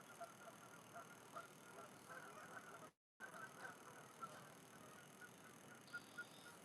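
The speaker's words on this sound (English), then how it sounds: "The geese are putting up quite a bunch of noise this morning" A flock of geese honks on a morning fishing outing. Scattered honks are layered over a steady outdoor background and sound faint and distant, with a brief dropout midway.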